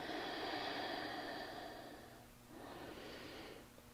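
During a yin yoga pose, two slow, audible breaths sound close and soft, each a long airy exhale separated by a brief pause.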